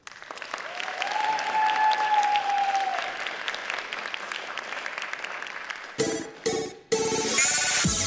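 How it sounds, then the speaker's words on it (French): A cosplay contest audience breaks into sustained applause, loud and dense crowd clapping that holds for several seconds before music cuts in sharply near the end. "Un tonnerre d'applaudissements."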